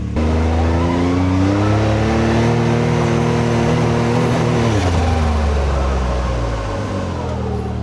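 A Can-Am X3 Max Turbo side-by-side climbs a hill, its turbocharged engine roaring loud and close with a steady drone that rises in pitch, then drops and settles as the throttle eases near the top.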